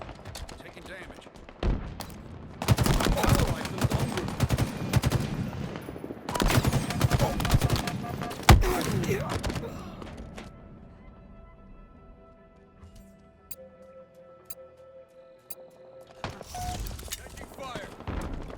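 Rapid automatic gunfire in the shooter game Halo Infinite comes in several loud, dense bursts separated by quieter stretches of distant battle noise and scattered shots.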